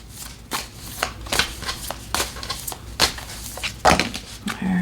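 Reading cards are handled and shuffled up close, giving quick riffling bursts and soft slaps in an uneven rhythm.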